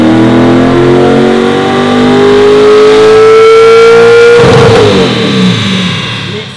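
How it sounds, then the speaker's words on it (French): A Corvette C5 runs on a dyno, its engine revving loudly and rising steadily in pitch in one long pull before cutting off abruptly and winding down. "Un petit tour de dyno juste ici pour la C5."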